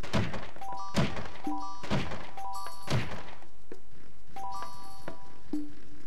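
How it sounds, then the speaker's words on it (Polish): A bright bell chime from the Kangurek Kao platform game rings out several times over steady in-game ambience and thunking impacts, the chiming tones repeating at roughly one-second intervals. "Dzwoneczek."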